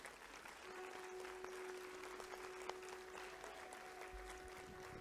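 Audience applause for the chief minister at a live public event in Uttar Pradesh: a dense, steady wash of many hands clapping at moderate distance, sustained for the whole stretch with a faint constant tone underneath.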